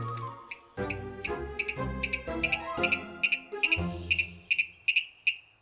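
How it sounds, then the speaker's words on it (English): A series of sharp, repeated high-pitched Virginia rail calls from cattails, quickening into a grunting, descending sequence, fairly faint over a soft background. "This was the call of the elusive Virginia rail."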